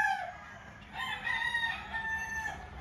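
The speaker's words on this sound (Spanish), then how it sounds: "Aquí tengo algunos pollos." Chickens on a ranch with a rooster crowing, a drawn-out crow rising and holding for a couple of seconds after a short earlier call, fairly close, with no talking.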